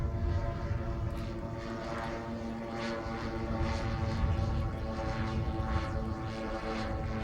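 A large scale Boeing 747 model airplane, 20 feet wide and 75 pounds, drones overhead on four weed whacker engines with a steady, faint buzzing hum that holds without a break.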